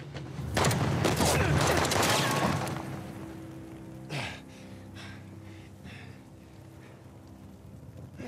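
A loud burst of rapid gunfire in Uncharted: The Lost Legacy rattles for a couple of seconds, followed by a sharp single shot and quieter ambient noise with faint voices.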